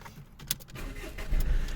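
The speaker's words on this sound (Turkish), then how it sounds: "evet aracımızı çalıştırabiliriz" A driving-school car's engine cranking and catching, a brief starter whirr rising into a low running rumble inside the vehicle, with a faint jingle of keys.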